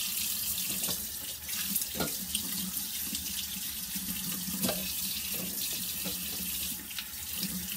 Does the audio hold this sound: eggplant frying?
no